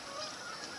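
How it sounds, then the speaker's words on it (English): Canada geese honking far off in the background of a winter scene by ice-covered water, a soft, continuous wash of distant calls under steady ambient noise. "listen, you can hear all the Canada geese off in the background."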